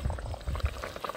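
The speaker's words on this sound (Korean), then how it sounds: "갑자기 또 기름 끓는 소리가 나는데요?" A whole pork belly simmers in beer at a campsite as the rendered fat starts to boil, giving a close, steady bubbling and spitting sizzle with no one talking.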